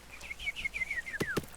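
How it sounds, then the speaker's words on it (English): A small bird chirps in the survival video game The Forest, a quick run of high descending tweets followed by two sharp, brighter calls, up close and alone. "What's up, little bird?"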